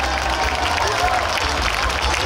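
An outdoor audience at the Taichung jazz festival main stage in Taichung Civic Square applauds a Japanese band with a thick, steady wash of clapping and crowd noise.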